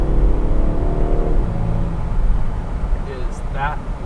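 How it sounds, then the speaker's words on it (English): Engine and exhaust roar of a 2018 Audi A5 Coupe accelerating, a rising drone heard from inside the car, steady and moderately loud, with people talking over it. "You can hear that exhaust a little bit there."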